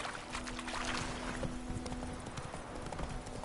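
Horse hooves clip-clop at a steady walking pace in Witcher 3, a continuous close rhythm of hoofbeats over ambient game sound.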